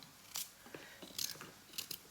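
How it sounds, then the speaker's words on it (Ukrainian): A knife chops a carrot into small cubes in quick, crisp bursts of cutting, a few short sharp crunches close to the microphone in a quiet kitchen. "Ось такими кубиками я нарізаю моркву."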